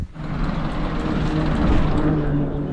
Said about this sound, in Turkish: Bir otobüs geçti ama